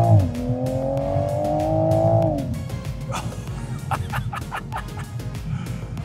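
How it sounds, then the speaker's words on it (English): A 2021 Toyota Supra downshifts while driving on the road, its engine note holding a droning pitch before dropping, then a quick series of sharp burbles and pops as the revs fall. "God, those downshifts are so good."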